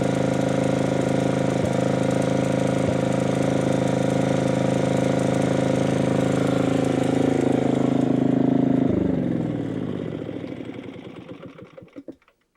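A Tecumseh small engine runs steadily and loudly during a charging coil test, a constant buzzing drone that holds for several seconds before slowing and sputtering down to a stop.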